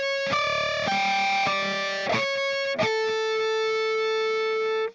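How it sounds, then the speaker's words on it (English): Electric guitar natural harmonics ring out through heavy distortion, a few bell-like chimed notes struck in quick succession and then one sustained tone held for several seconds before cutting off. "the distortion helps us to be able to get some of those kind of extra harmonics that aren't in the sweet spots"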